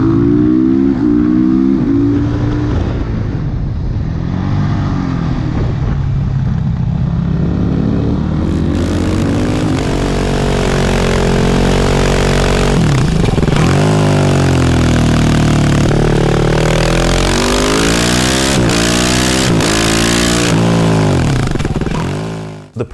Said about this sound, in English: you're getting a lot of wind noise because it's mounted in a high wind environment